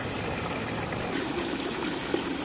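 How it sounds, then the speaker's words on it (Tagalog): Water running steadily while garden plants are watered outdoors, a continuous close gushing flow with a slight rise in the second half and no voices. "magdilig muna tayo ng halaman"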